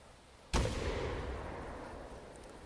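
A single shotgun slug fired in the hunting video game theHunter Classic, a sharp loud blast half a second in followed by a long rolling decay that fades over two seconds.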